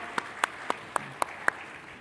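A handful of sharp, evenly spaced handclaps from an audience after a talk, about six crisp claps in two seconds rather than a full ovation, with no voices.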